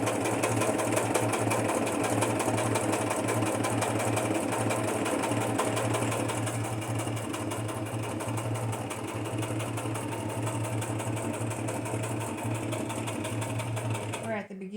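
A sewing machine stitches across a cardstock journal cover with a fast, steady mechanical hum and rapid needle clatter. It keeps going for about fifteen seconds and stops at the end.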